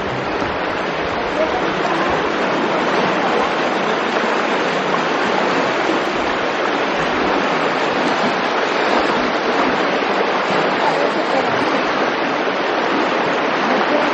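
Flowing stream water being crossed rushes steadily and loudly in a constant broadband roar, close by and unbroken for the whole stretch.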